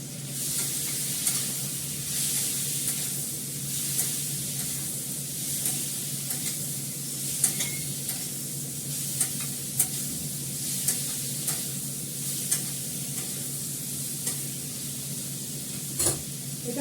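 Spices, nigella seeds and salt sizzle in oil in a pan while being stirred. A steady close hiss is punctuated every second or two by sharp scrapes and taps of the spoon.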